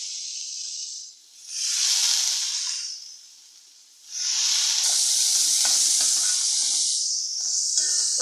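Soaked chana dal stirred and sautéed in a pan of hot oil while making a Maharashtrian ridge gourd bhaji, with two long bursts of loud sizzling hiss separated by a quieter spell, no talking.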